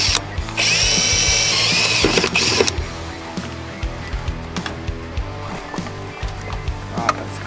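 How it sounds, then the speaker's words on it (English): A power drill bores holes into the door of an old 4x4, whining loudly at a steady pitch for a couple of seconds, then settling into quieter clicks, taps and handling noises. "I drill holes in the door"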